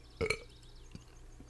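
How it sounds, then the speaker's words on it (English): A single short, loud burp erupts close up, followed by a couple of faint soft clicks in an otherwise quiet room. "Ellipses didn't like the fact that I burped"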